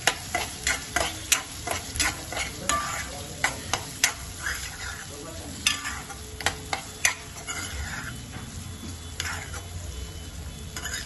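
Onion, garlic and coriander fry in oil and are stirred, with a steady sizzle under frequent sharp clicks of a spoon against the pan. The strokes come in a quick rhythm and are close and distinct.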